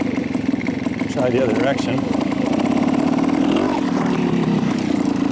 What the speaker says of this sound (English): I'll let the RPM build up just a little bit.